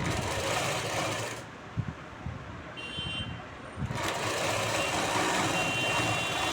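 A sewing machine runs steadily while stitching a straight seam on cloth, a close, continuous mechanical whir with one brief pause partway through and no talk over it.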